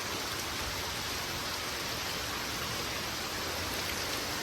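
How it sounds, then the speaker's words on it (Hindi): Steady rain falls outside a home on Janmashtami, a dense, even hiss of drops that stays constant throughout with no voices. "क्या भैया बारिश हो रही है जन्माष्टमी वाले दिन।"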